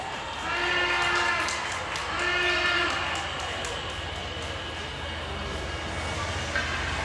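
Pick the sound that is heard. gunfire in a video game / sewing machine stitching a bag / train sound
train sound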